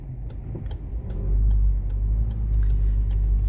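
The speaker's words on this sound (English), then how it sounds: "famous English buses," London traffic with double-decker buses rumbles close by, a heavy low engine drone that swells and holds steady, with faint passing noise and no talk.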